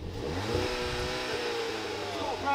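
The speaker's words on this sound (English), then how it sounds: "Give it a big one, give it. Idle rev limiter." A go-kart engine buzzes and stutters against its idle rev limiter, which cuts fuel, giving a choppy, pulsing rasp at fairly low level.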